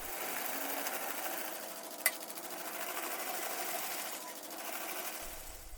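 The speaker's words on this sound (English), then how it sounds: "The machine's sharp tools spin swiftly, delicately peeling off just the skin without damaging the fruit inside." Pineapple peeling machine with fast-spinning sharp blades stripping the skin from the fruit, giving a steady close mechanical whir with one brief sharp tick partway through.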